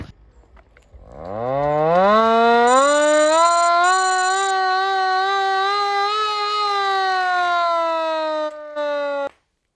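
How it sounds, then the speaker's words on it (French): A siren-like alarm at a youth firefighters' training camp in Sanary-sur-Mer winds up from a low growl into a loud, steady, harmonic wail, holds for about eight seconds with a slight drift in pitch, then cuts off abruptly. "Lorsque l'alarme retentit, comme depuis le début de la semaine, les JSP doivent s'activer et se rejoindre au départ."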